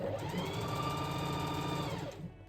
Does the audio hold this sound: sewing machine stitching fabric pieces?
yes